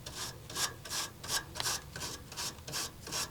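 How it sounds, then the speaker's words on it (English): A coil brush sweeps across AC condenser coils in light, repeated strokes, giving a soft, close, rhythmic scraping about three times per second, with no voices. "after brushing the coils with the coil brush and vacuuming inside and out"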